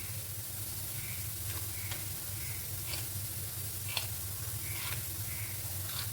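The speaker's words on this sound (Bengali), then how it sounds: "ভেন্ডি ভাজা করবো" Okra frying in a pan gives a steady, close sizzle with soft hiss and faint stirring clicks, continuous and moderately quiet with no voices.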